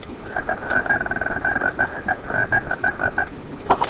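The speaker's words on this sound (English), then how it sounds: "and the frog, when you click on him, will make a noise." A recorded frog croak plays from a SMART Board interactive display as a rapid run of rhythmic chirping pulses, fairly close and clear over faint background noise.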